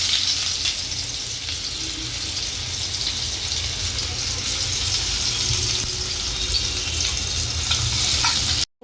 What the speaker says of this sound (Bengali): কাঁচা পেঁয়াজ ভেজে নেব।